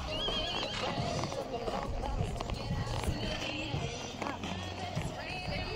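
Hooves clop steadily as a horse crosses a hollow footbridge and whinnies, with a voice talking faintly under the noise.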